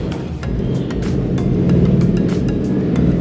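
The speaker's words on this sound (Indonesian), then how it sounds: "Sorry, ada suara motor." A motorcycle engine passes outside a room, a steady broadband rumble that swells louder as it goes by, heard alone with no talking.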